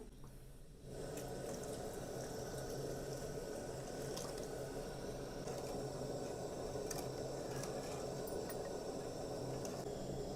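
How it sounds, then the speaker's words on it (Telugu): Water poured from a pot into simmering green-chilli fish stew, a steady close splashing pour that runs from about one second to the end without speech. "ఇప్పుడు ఇందులోకి ఒక చెంబు వాటర్ అయితే పోసుకుందాం"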